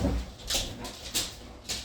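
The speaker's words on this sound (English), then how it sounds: "There's like 14 dogs next to me." Whimpering and whining from a pack of around fourteen dogs close by indoors, heard in several brief bursts with a low rumble underneath.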